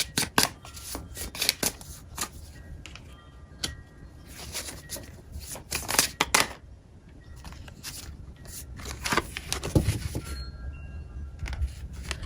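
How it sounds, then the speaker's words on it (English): Tarot cards being shuffled and drawn, irregular close papery flicks, slides and taps in uneven bursts, fairly quiet, with no voice over them. "I'm going to get 2 more and then take the bottom as our 6 cards."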